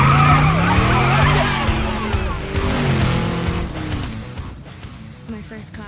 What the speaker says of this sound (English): The roar of the engine just tickles me.